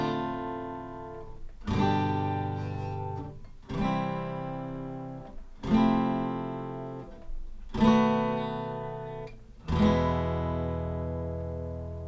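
An acoustic guitar strums a chord progression, six full chords rung out at a steady, unhurried pace with each chord left to sustain.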